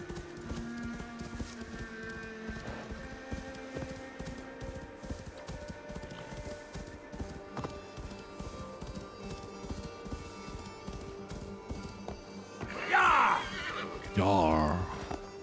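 A horse gallops in Assassin's Creed Valhalla, its rhythmic hoofbeats running steadily under a talking voice, followed by loud neighs near the end.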